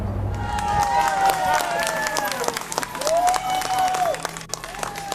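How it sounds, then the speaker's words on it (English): Hundreds of mourners at an outdoor memorial celebration in East Harlem clap and cheer as white balloons are released, a dense, sustained wash of applause and crowd noise with whistles and scattered voices rising throughout. "Hundreds of mourners clap, cheer, and cry as they release fistfuls of white balloons into the blue sky."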